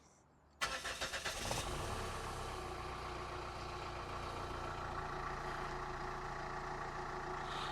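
A 2007 Chrysler Grand Voyager 2.8 CRD diesel engine cranks briefly after a moment of quiet, catches, and settles into a steady, loud diesel idle that continues alone.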